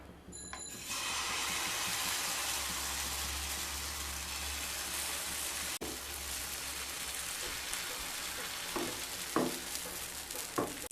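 Semolina batter frying in a hot pan with a little white oil gives a steady, close broadband sizzle from the start, with a few brief clicks and scrapes later on.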